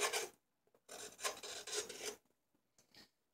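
A gouge scooping out the bowl of a silver birch wooden tasting spoon: close, loud rasping scrapes in a few strokes of uneven length, separated by short pauses, with no talking.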